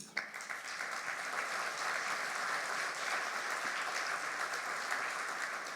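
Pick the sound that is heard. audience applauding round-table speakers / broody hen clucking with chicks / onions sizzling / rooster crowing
audience applauding round-table speakers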